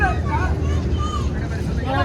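Riding a boat across the water at Sigandur, with steady broadband rumble of engine, water and wind buffeting the microphone throughout, and people talking over it.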